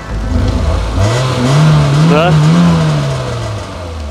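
A German car bought at auction, fitted with a turbo, starts up and revs, its loud engine note climbing and falling in a sustained rise before settling, with a brief voice over it.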